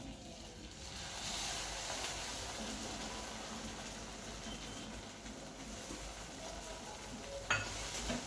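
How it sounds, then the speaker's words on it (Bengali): Mustard and poppy seed paste sizzles and is stirred steadily in hot oil in a pan, a continuous close frying hiss with scraping, no voices. "এটা আমি তেলে দিয়ে ভালো করে কষিয়ে নিচ্ছি।"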